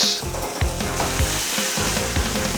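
Honey and ginger pork chops with fat sizzling on a grill, giving a loud, close, continuous frying hiss. Scraping and handling sounds are mixed in, and no one speaks.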